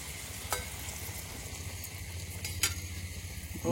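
Luchi, puffed flatbread, fry in plenty of oil outdoors in a forest at night, giving a loud continuous sizzle with a couple of faint utensil clicks and no talk.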